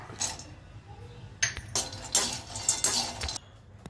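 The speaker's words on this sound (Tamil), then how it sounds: "இப்போ முந்திரி பருப்பு சேர்த்துடல வால்நட்டு பிஸ்தா" Cashews, walnuts and pistachios tumble into a pan for laddu-making, giving bursts of clattering, clinking hits in several quick rounds, fairly near and moderately loud.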